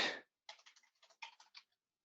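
Typing on a computer keyboard: a quick burst of about eight light, close key clicks in an uneven rhythm after a short hiss, then quiet.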